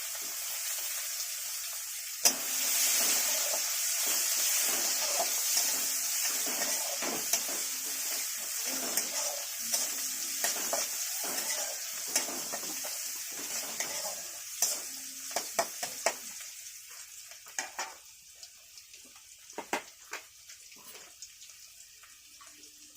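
Chopped onion with cumin seeds and small bay leaves hitting hot oil in a pan, starting with a sudden loud sizzle that continues steadily, with repeated clicks and scrapes of stirring throughout.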